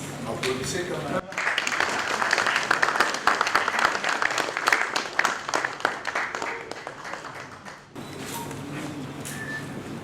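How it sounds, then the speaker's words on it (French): Members of the DRC National Assembly applaud in a parliamentary chamber, dense clapping that swells in the middle for several seconds, with speech before and after it. "Applaudissez quand même."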